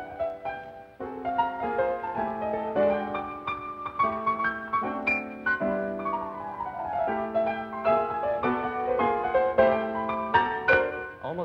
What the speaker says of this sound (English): a cool progressive cat is playing it on the piano in Birdland